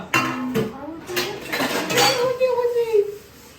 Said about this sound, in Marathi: माझी बायको आता भांडी घसते याचा साबण जास्त लावा